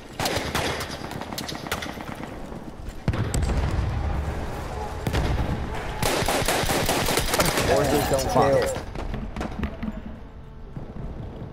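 Automatic gunfire in the Battlefield 1 open beta, with loud, dense bursts rattling through most of the stretch over a steady layer of battle noise, the shooting tapering off toward the end.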